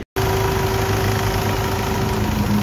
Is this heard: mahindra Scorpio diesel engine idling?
yes